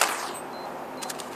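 Gunfire in Counter-Strike on the original Xbox: a sharp shot at the start followed by a short burst of rapid, faint game shots over a low hiss, with no voices.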